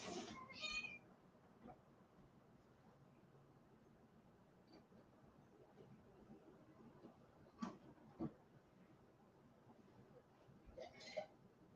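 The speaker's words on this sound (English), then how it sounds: "My cat wants to come in." A cat meowing to be let in, with a few short meows spread across a quiet room, some close and clear, others fainter, and no voices.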